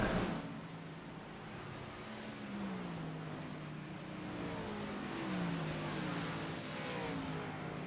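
Stock cars, including a Toyota Supra, racing around an oval track at night, a continuous engine drone with rising and falling pitch as cars pass, heard at a distance under faint crowd and broadcast ambience.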